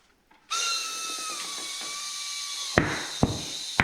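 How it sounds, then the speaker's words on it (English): A loud, steady hiss of rushing air with a faint whistling tone as a tubeless mountain bike tire is inflated, then several sharp pops near the end as the tire bead sets. "what you're hearing is the bead setting"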